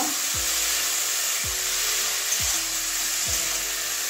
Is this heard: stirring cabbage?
yes